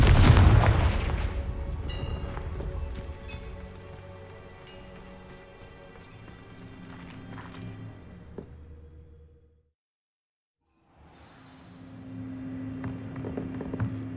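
Confringo blasting-spell explosions in the Hogwarts Legacy video game: a loud booming burst that decays into crackling debris, a short silence, then a fainter rumbling blast.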